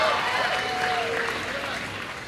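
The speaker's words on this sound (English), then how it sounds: "I'm never going to stop you if you want to cheer." A large rally crowd cheers and applauds steadily at an election event in Wilkes-Barre, a dense roar with voices rising above it that fades slightly toward the end.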